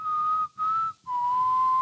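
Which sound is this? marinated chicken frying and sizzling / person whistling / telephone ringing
person whistling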